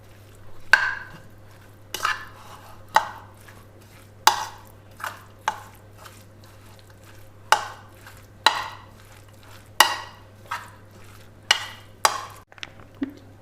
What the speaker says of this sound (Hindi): चीज़ों को अच्छी तरह मैं मिक्स कर लूँगी।